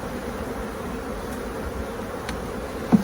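Honey bees buzz steadily and close, a continuous drone from many insects with no talking.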